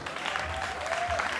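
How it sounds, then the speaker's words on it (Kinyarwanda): A concert audience applauds, steady dense clapping from a large crowd filling the whole moment at even loudness. "Ikaze iwacu nikomera amashyi."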